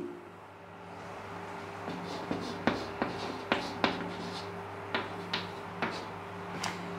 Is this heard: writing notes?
yes